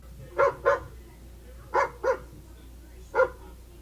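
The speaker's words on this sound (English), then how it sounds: "or maybe a middle-sized dog barking behind a fence" A medium-sized dog barks five times, mostly in quick pairs, sounding slightly muffled and distant as if behind a fence, with quiet gaps between.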